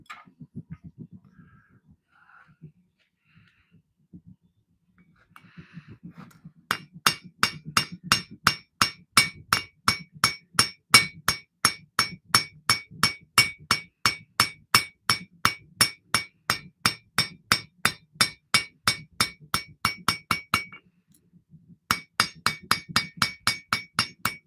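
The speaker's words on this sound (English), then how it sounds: "And we're just forging in the bevels." A hammer forges bevels into a custom knife blade, ringing metallic strikes in a fast steady rhythm after a quiet start, broken by one brief pause near the end.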